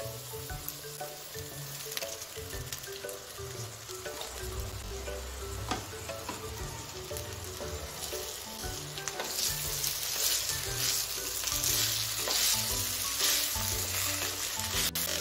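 Cooled cooked rice with a pinch of turmeric is stir-fried in a pan for restaurant-style veg fried rice. A dense, continuous sizzle runs throughout and grows louder toward the end, with occasional scraping stirs, close and with no speech.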